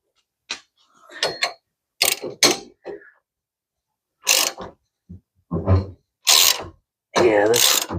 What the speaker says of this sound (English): Now let me get a ratchet.